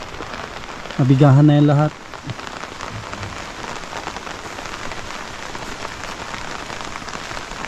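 Steady rain pours on a construction site where people shelter under umbrellas, a continuous hiss throughout, with someone speaking briefly near the start.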